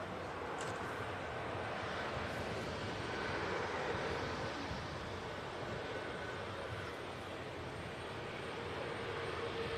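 An EasyJet Airbus A320neo touching down at Manchester Airport, heard as a fairly distant, steady rumbling roar that swells slightly in the middle and then eases back.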